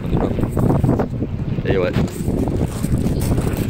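Outdoor wind gusts buffet a camera microphone with heavy low rumbling thumps, while people talk nearby in French over the buffeting.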